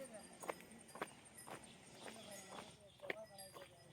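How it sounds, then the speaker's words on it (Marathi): Cows walk past on a rural path in the Konkan countryside, their hooves giving regular, spaced clops about every half second, close by and fairly faint, with a few soft voices in the background. "गाय आली आहे पुढं"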